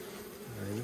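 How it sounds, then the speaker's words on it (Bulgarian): Honeybees buzz steadily around a hive frame being handled, a close, continuous drone that swells louder and lower toward the end, with no talk. "Две пчели, трудно ще ги изметеш."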